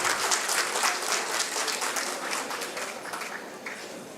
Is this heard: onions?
no